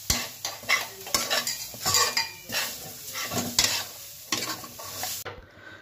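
Grated coconut frying on low heat in a kadai as a utensil stirs and scrapes it in quick repeated strokes, with light sizzling beneath the close, rhythmic metal scraping.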